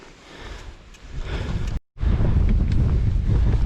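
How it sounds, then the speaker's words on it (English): Strong wind on a hillside climb while riding along Derwent Edge, loud buffeting gusts roaring across the microphone, briefly cutting out midway before returning even stronger. "I don't know if you can hear that or not. It is very windy."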